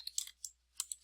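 Several light, sharp keystrokes come in an uneven rhythm on a computer keyboard as an email address is typed, quiet and close in an otherwise silent room.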